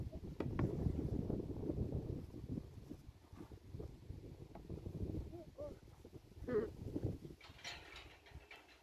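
Gusty wind buffets the microphone in low rumbling bursts outdoors during pony grooming, with faint animal bleats and a quiet voice in the background.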